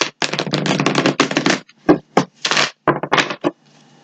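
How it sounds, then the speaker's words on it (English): Tarot cards are shuffled up close: a rapid, crackling riffle runs for over a second, then shorter bursts of flicking and snapping cards, ending in near silence, with no talk. "I'm going to give this one more shuffle"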